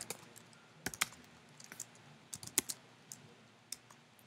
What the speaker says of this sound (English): I'm typing, but it's not doing anything.